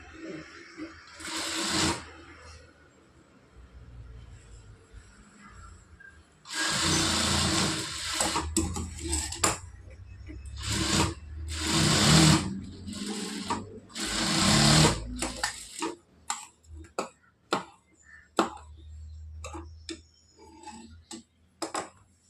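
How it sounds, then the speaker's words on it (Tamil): A sewing machine runs in bursts while stitching a blouse in a zigzag pattern, its close, whirring motor starting and stopping repeatedly between short pauses, with a few clicks at the end. "எப்போவுமே தையல் வந்து ஆரம்பிக்கிற இடத்துலையும் முடிக்கிற இடத்துலையும் இந்த மாதிரி ஜிக்ஸாக் வந்து பண்ணிக்கோங்க."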